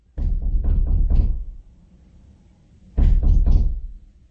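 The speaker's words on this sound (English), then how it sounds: "Someone knocked again and again" Knocking on a front door: a burst of five sharp raps, a pause of more than a second, then three more, close and loud against a quiet room.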